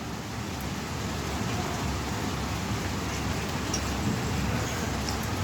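Steady, dense night rain pours down without a break, a continuous close hiss of drops hitting surfaces, with thunder in the sky.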